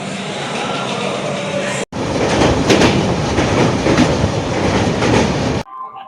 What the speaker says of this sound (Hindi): स्टेशन से, कटक स्टेशन से खुल चुकी है ट्रेन भुवनेश्वर के लिए।